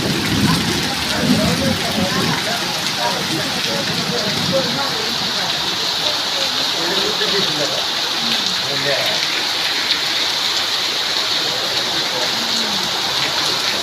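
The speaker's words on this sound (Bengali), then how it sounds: "দেখেন কি পরিমাণ বৃষ্টি হচ্ছে" Dense, steady hiss of heavy rain pouring down continuously, with a voice talking underneath the downpour.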